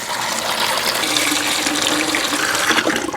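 Water sprays continuously over a motorcycle during washing, a loud, close, steady hissing gush with no pauses and no voices.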